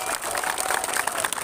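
Spectators at a camp football final in 2023, Daw Mu Say against K.U.P, clap together in a brisk, continuous patter that holds steady through the short stretch.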